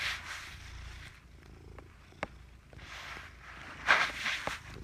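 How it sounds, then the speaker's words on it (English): A cat purrs loudly and close, a soft rumbling drone that rises and falls with its breathing, with a few light taps and rustles mixed in and no talking. "I'm sorry if the purring is loud on there"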